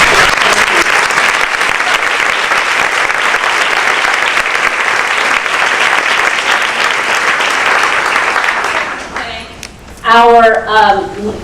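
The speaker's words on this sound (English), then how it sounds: "So if you would join me in a round of applause." An audience at a Title IX 40th anniversary event applauds loudly and continuously for about nine seconds before the clapping fades and a voice starts speaking.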